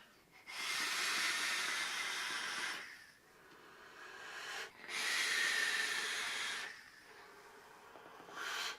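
Airy draws through a Geekvape Zeus RTA fitted with a single 26 gauge Alien coil at 0.21 ohms on a Smoant Gaia box mod: two long, soft breathy hisses, then a brief third pull near the end.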